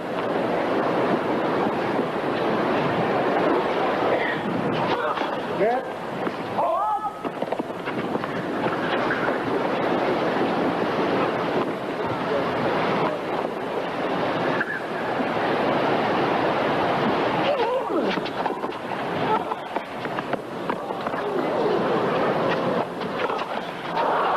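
Blustery wind during an outdoor professional tennis match on a New England day, a constant loud rushing roar buffeting the microphone with gusty surges throughout, masking most other court sounds.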